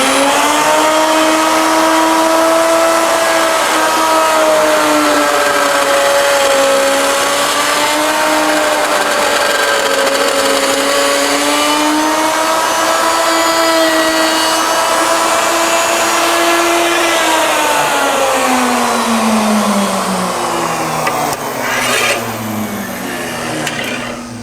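A router cuts a cove at the end of a two-start barley twist wooden candle holder, a loud, steady motor whine with shifting pitch running throughout and slowly dropping near the end.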